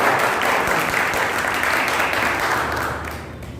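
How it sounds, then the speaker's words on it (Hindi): A crowd at a school road safety quiz event gives loud, thick applause to welcome the school principal, a steady roar of clapping that eases off slightly at the end. "जोरदार तालियों से स्वागत करें।"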